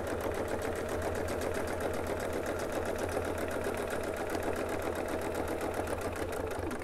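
A sewing machine stitching a clamshell quilting design with a Westalee template runs as a steady, even mechanical whirr with a fast rhythmic needle beat, close and continuous, with no voices over it.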